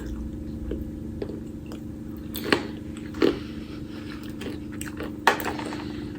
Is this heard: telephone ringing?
no